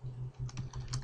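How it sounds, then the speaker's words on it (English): Quick bursts of key clicks on a computer keyboard entering a command at a PowerShell prompt, close and fairly soft. "I type exit."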